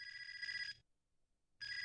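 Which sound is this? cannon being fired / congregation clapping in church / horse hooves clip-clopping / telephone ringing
telephone ringing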